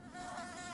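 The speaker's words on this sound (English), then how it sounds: "Stupid bees." Bees buzz inside the hive area of the Hollow Knight video game, a steady, close insect drone held evenly throughout.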